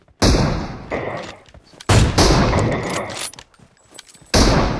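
Gunfire in the mobile battle royale game BGMI played on an iPhone 12, three loud close bursts of rapid shots, each lasting about a second with sharp broadband cracks and a ringing tail, separated by brief lulls.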